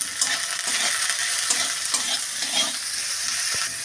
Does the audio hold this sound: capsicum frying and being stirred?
yes